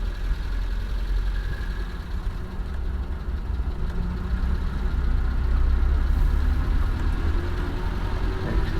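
A 1953 Volvo PV 444 with a 44-horsepower engine drives in second gear, a steady mid-low engine drone that swells slightly in the middle, close and continuous with no talking.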